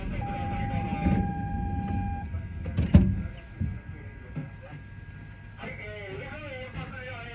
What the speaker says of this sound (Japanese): ドア閉まります。 閉まるドアご注意ください。